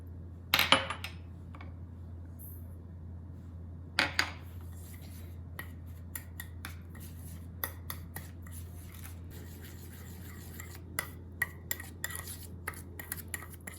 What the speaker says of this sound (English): you're going to need the kinako, sugar, and salt. And all we're gonna do is mix it together